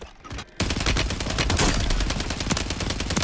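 Rapid automatic gunfire from a weapon in the video game Warzone bursts in loud and close, a fast, steady stream of shots that runs without pause after a brief lull.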